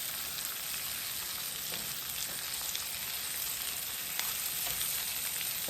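Jerk-seasoned pork chops fry in a pan with a steady, even sizzle and crackle that holds close and fairly loud throughout, with faint scattered pops and no voices.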